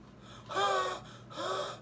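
A man imitates laboured asthmatic breathing with two loud, strained gasping inhalations, close to the microphone, separated by a short pause.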